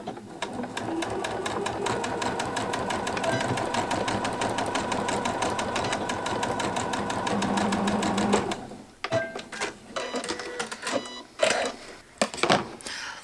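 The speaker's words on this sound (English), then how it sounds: "I'm going to just pop it on the machine while I have it right here and do a little quick stitch at the very, very base of that piece." A sewing machine stitches a gift bag with a fast, even mechanical chatter for about eight seconds, then stops, followed by irregular clicks and handling noises.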